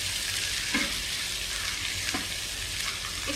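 Green beef karahi with black and white peppercorns frying in a pan, a steady soft sizzle broken by a few scraping stirs of the spoon, fairly quiet and without voices.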